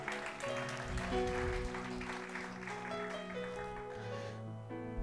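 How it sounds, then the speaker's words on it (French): A church congregation claps and cheers in a continuous, steady wave of applause, with music carrying under it and no speech on top. "Est-ce que tu peux acclamer les seigneurs?"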